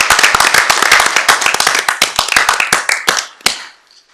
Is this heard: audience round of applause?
yes